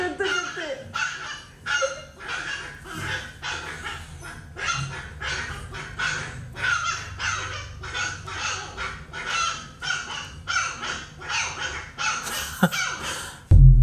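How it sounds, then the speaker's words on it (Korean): Shiba Inu puppies bark in a steady run of rapid, high, doll-like yaps, evenly spaced and fairly close. A voice talks faintly underneath. "얜 진짜 인형처럼 짖는다."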